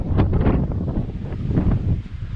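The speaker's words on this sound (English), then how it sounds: "Very windy." Strong wind buffets the microphone in a continuous low rumble, gusting unevenly throughout with no voices.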